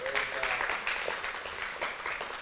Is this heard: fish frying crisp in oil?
no